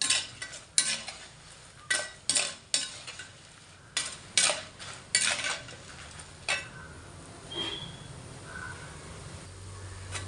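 Curry leaves and fenugreek sizzle and fry in a generous pour of sesame oil while a spoon stirs them, giving a series of sharp scraping, clattering strokes over a steady low crackle, close and fairly loud.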